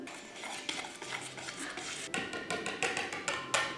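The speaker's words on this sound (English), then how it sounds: "next we're going to mix together our 3 cups of flour" Flour and baking powder mixed in a bowl, a utensil clinking and scraping against the side in quick, light, repeated strokes, fairly quiet and close.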